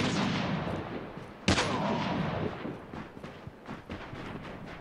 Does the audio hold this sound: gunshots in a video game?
yes